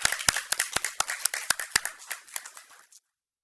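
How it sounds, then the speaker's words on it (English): A small group at a city council meeting claps for volunteers, with sharp, fairly sparse hand claps close to the microphone that quicken and then thin out before stopping into silence. "all our volunteers one big last round of applause"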